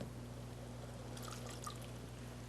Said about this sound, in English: We're going to add just a touch of water